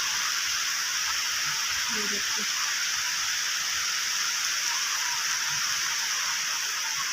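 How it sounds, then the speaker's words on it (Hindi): Rain falls steadily beyond a balcony, a dense, even hiss that continues unbroken throughout, while someone speaks briefly over it. "बारिश झिम झिम झिम बारिश हो रही है।"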